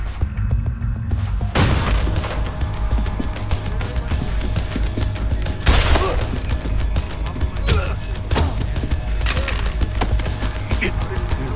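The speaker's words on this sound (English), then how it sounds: "Gunshots!" Several booming shots ring out at irregular intervals over a low rumbling background hum, sharp and loud gunfire in the video game Deus Ex: Human Revolution.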